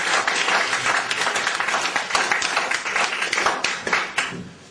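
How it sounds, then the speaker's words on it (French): Applause from a conference audience at a lecture in Vénissieux, 2007: dense, continuous clapping that fills the room at steady loudness, with a few louder bursts and no talking. "Je peux lui donner le temps d'applaudir."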